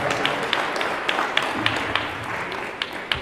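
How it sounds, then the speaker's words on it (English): Audience at a Roberto Clemente commemoration applauding themselves, a steady wash of clapping with distinct sharp claps standing out, moderately loud and close. "Give yourselves a round of applause."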